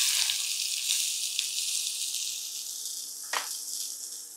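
Mustard seeds, cumin and onions sizzle steadily in hot oil, a bright, continuous frying hiss with a few soft pops and stirring knocks, close up and with no talking.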